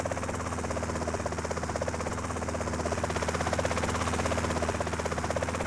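Helicopter in GTA San Andreas hovering and coming in to land, a steady close rotor whine with rhythmic chopping pulses throughout, loud and unbroken, no speech.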